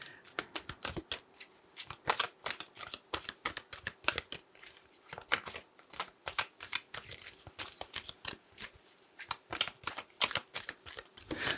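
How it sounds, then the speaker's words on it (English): Tarot affirmation cards are shuffled continuously up close, a dense run of crisp riffling flutters and soft slaps in uneven bursts, with no speech. "let's pull some affirmation cards for you"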